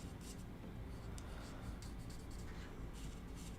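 Alcohol markers drag across paper while pale green leaf colours are laid in, giving a soft, steady scratchy rubbing with quiet broadband noise throughout and no talk.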